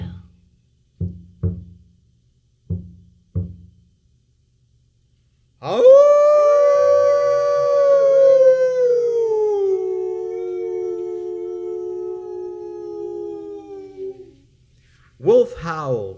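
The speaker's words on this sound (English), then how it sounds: "Wolf howled because wolf can. A tuneful howling" A wolf gives one long, tuneful howl lasting about nine seconds, close and clear, after a few soft knocks and before another brief sound.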